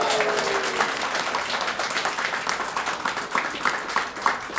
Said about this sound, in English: can I get a round of applause for Nancy?